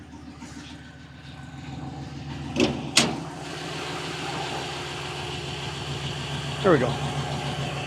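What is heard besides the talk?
1970 Chevelle LS1 engine running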